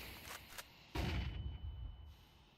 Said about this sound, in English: Throwing flashbang. Flashbang.